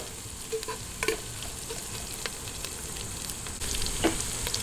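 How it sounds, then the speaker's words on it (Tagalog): Onions sautéing in a pan for chicken arroz caldo, a constant close sizzle with scattered clacks and scrapes of a spatula stirring them around, no voices. "gisa-gisahin lang po natin hanggang sa medyo lumambot na yung sibuyas"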